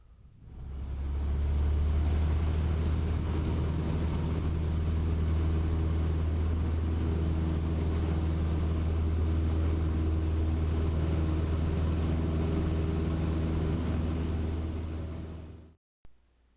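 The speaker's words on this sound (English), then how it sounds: "After giving the engine full power, we now use the rudder pedals to steer down the center of the runway." A small airplane's engine roars steadily at full power through the takeoff roll, a constant low droning hum with a rumbling tone, loud and close throughout before cutting off abruptly near the end.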